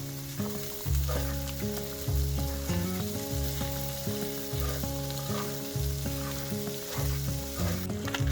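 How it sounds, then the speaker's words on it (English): Corned beef and softened potatoes fry in butter in a pan while being stirred, a steady close sizzle running throughout with a musical backing underneath. "Add your corned beef once potatoes have softened and stir."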